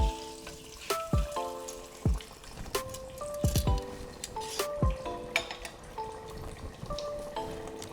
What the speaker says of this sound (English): Now we're going to drop it in the deep fryer.